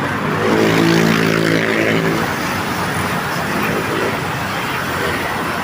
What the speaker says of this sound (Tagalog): hindi ka mabuboring manood ng eroplano kasi sunod-sunod yung paglipad at paglapag